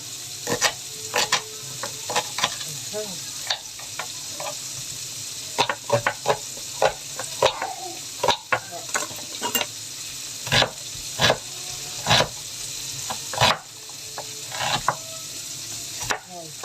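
Garlic and onion sauté in a hot pan for an ampalaya dish with a steady sizzle, while a utensil repeatedly clacks and scrapes against the pan in irregular bursts, close and loud.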